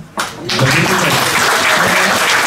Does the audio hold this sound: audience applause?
yes